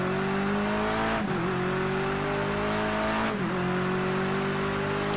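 In Project Cars 2, a touring car on a wet Bull Ring track drones under steady engine noise while brief tire lockups cut in twice as short scrubbing dips.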